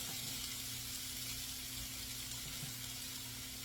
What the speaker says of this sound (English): I'm just going to keep flipping these meatballs as I'm cooking them